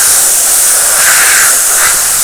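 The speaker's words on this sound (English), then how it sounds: "I like to definitely take this every so often and steam clean the remote control" A steam cleaner hisses loudly and continuously at close range while a remote control is cleaned, a dense, bright rushing spray with no pauses or speech.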